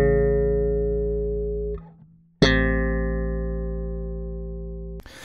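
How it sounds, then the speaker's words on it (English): Tenth chords on a bass guitar: a deep low note and a clear higher note ring out together and sustain, then fade, with a second chord plucked about midway that rings on until a final touch. "It sounds very cool on a bass because you have the deep lower note and a very distinguishable and clear higher note"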